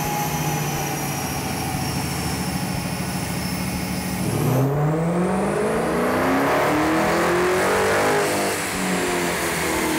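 A car engine revs hard, its pitch climbing in long sweeps, drops sharply midway, then winds up again through rising gears, loud and close.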